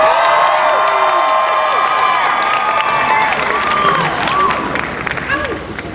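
Large outdoor crowd at a Texas anti-abortion rally in 2016, cheering, whooping and applauding continuously and loudly, the roar tapering slightly toward the end.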